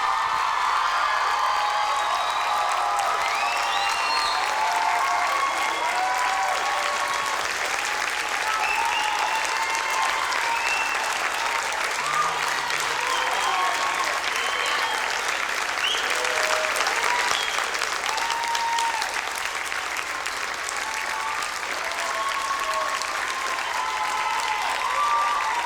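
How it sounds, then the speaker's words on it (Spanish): A church congregation applauds continuously for about twenty-five seconds, dense and steady clapping from a large crowd with scattered cheers and whoops mixed in, heard close and loud throughout. "Gracias por esa ovación para el Señor"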